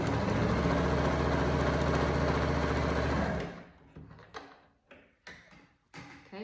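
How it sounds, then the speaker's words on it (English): A sewing machine runs in one steady, continuous burst, stitching a seam along the top folded edge of fabric for a crossbody phone holder bag. It stops abruptly and is followed by a few light taps and handling noises. "Now I'm going to take it and sew it, the edge of my presser foot, along the top folded edge"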